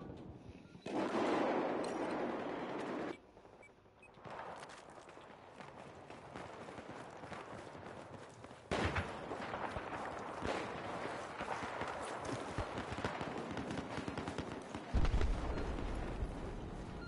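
Shotgun and other gunfire in Battlefield 4 on PS4, with bursts of dense shots and loud blasts over a steady battlefield din, some heavy booms near the end.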